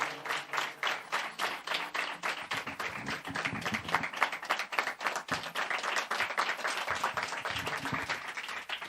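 Vigorous audience clapping at a felicitation ceremony honouring a mridang master, dense and continuous with rhythmic pulses running throughout, close and loud with no speech over it.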